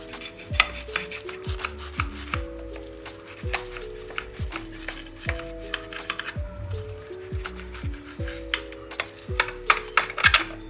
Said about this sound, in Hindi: आपको दिखाती हूँ किस तरह से मैं 2 3 पीस लेके एक साथ ही काट लेती हूँ